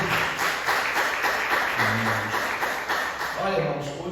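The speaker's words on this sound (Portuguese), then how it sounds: "E as palmas bem fortes para Jeová nessa noite." Church congregation clapping loudly and continuously in steady rhythm, with a voice speaking and singing over the applause throughout.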